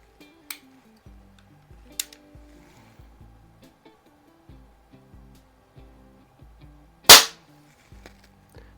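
A Smith & Wesson 79G air pistol firing Crosman Premier hollow point pellets: one loud, sharp crack near the middle, standing out from a few faint clicks and quiet background tones.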